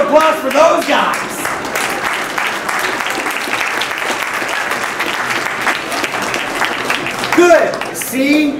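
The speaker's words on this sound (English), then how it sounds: "a round of applause for those guys" An audience breaks into loud, sustained applause that fills the room, with brief voices at the start and end.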